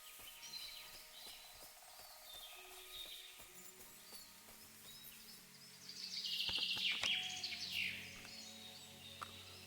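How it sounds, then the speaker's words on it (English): Loud birdsong in the Kingdom Come: Deliverance 2 video game, with chirps and calls over a quiet ambient bed, swelling into a bright burst of song midway alongside scattered clicks and soft tones. "That's very loud birds."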